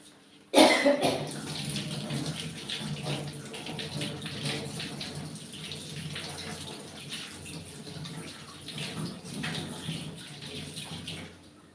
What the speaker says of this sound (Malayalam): ഒരു കുടപ്പുളിയുടെ പീസ് എടുത്തിട്ടുണ്ട് ഒന്ന് കഴുകി എടുക്കാം